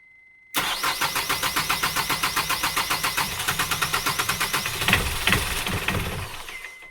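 A sailboat's engine, recently troubled by a dirty fuel filter, is cranked over in a fast, even chugging rhythm, then catches and rumbles into a rough run, loud and close.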